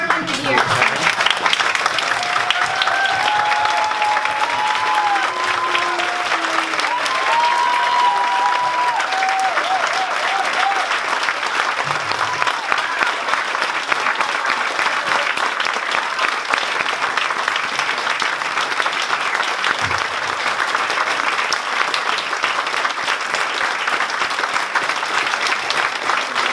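A large audience at a breast health event applauds breast cancer survivors, with sustained, dense clapping throughout and some cheering voices and talk mixed in near the start.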